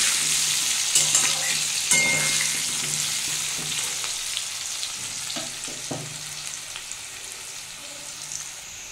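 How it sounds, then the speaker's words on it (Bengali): Potatoes lightly salted and frying in hot oil until reddish-brown, giving a steady close sizzle with occasional stirring clatter and small pops. "আলুটা আমি লাল লাল করে ভেজে নেব"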